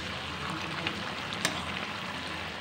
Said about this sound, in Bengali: আমি এখানে কড়াইয়ে মুরগির মাংস লাউ দিয়ে রান্না করছি